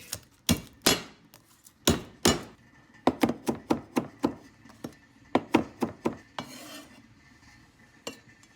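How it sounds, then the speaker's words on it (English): Garlic minced with a knife on a cutting board: rapid, crisp chopping strikes in irregular bursts, close and clear, with no talking. "going to mince it. And then the garlic."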